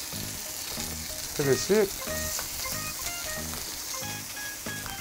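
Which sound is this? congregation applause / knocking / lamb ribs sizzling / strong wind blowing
lamb ribs sizzling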